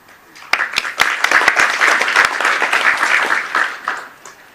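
An audience bursts into clapping at a formal ceremony, opening with a few sharp individual claps that build into dense, close applause before fading.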